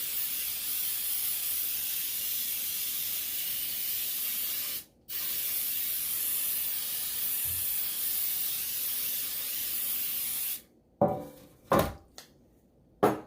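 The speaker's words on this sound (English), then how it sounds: "I'm going to spray a little Baker's Joy in my pan so that my cake doesn't stick." Baker's Joy flour-and-oil baking spray hisses from a can into a cake pan in one long, close, steady blast with a brief break, followed by a few light knocks and clatters.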